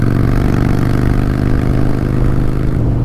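A motorcycle engine runs steadily while riding, a loud continuous mid-pitched drone with a strong low hum and some clatter, holding an even level throughout with no talking.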